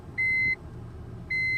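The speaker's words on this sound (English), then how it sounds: "That's your reverse beep" A Nissan Cedric's reverse warning beeps twice inside the car, each a clean steady electronic tone lasting about a third of a second, with a gap of nearly a second between them over a quiet engine hum.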